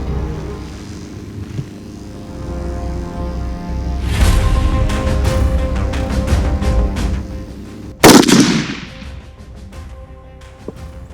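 A single loud, sharp Howa rifle gunshot cracks out on the open plains of Zimbabwe during a hunt, rising over a steady low wind rumble and fading into outdoor ambience.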